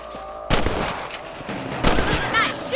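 Several rifle shots at rabbits in the Western video game Red Dead Redemption, sharp loud cracks spaced over a few seconds against a steady outdoor game ambience.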